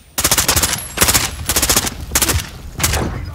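A Val rifle fires in a survival video game, five rapid bursts of close, loud automatic gunfire with brief pauses between them.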